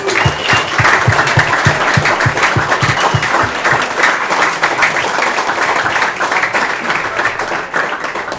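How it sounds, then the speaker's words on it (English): A crowd gathered for a boys soccer team event at a pizza restaurant claps loudly and steadily, a thick continuous burst of many hands with some rhythmic unison clapping early on, fading slightly near the end. "Let's clap it up for Dad."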